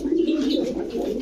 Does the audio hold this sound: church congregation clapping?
no